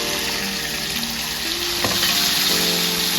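Tomato goes into a hot pan and fries with a loud, continuous sizzle and hiss, with faint tonal background hum and a brief clatter partway through. Nobody speaks.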